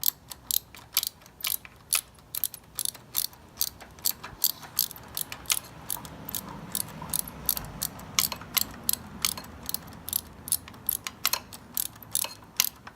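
A socket ratchet tightening a cage mount on a Yamaha FZ07 motorcycle, clicking in steady rhythmic bursts close by, with a brief pause partway through before the cranking resumes.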